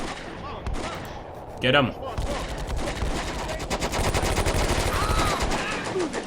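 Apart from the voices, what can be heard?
gunfire from paratroopers in video game Combat Mission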